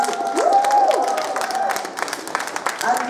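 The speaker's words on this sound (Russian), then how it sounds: "Давайте похлопаем сейчас, чтобы я посмотрела, как у вас настрой." Party guests at the Cosmos Party clap and cheer together, a dense, loud and steady burst of applause with crowd voices mixed in throughout.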